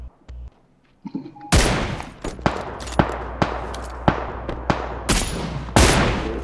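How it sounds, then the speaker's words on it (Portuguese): Gunfire in the video game PUBG: after a quiet start, a rapid series of about ten sharp, loud shots cracks out at uneven intervals, some in quick pairs, each followed by a short echo. "Dois, três tiros."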